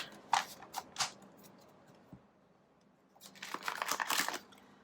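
Tarot cards being shuffled by hand, giving crisp papery riffles and flicks in two bursts, with a quiet gap between them and no talk.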